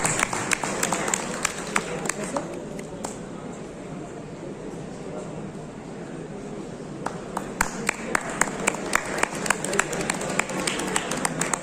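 Applause at a small ceremony presenting a gift during a rangoli and poster competition event: scattered sharp claps at the start, a quieter lull, then a sustained burst of crisp clapping from a modest group, fairly close.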